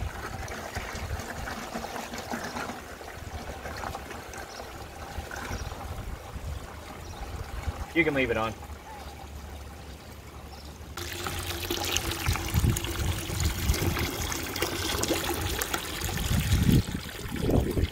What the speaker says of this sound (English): I put the nutrients in first, that way they all get dissolved as the water is poured into the bucket